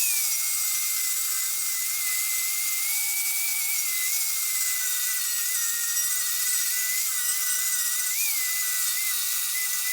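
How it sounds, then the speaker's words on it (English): An angle grinder with a 40 grit flap wheel roughs up a chrome truck bumper, giving a steady, loud high-pitched whine that holds unbroken throughout with only slight pitch wavers. "I've hit both sides of this bumper with the angle grinder and that's a 40 grit flap wheel on there"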